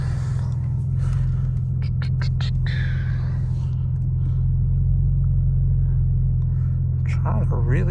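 A 900 BHP BMW M4 rumbling during a night drive with traction control off, a deep, loud, continuous engine drone inside the cabin with brief sounds and voices over it.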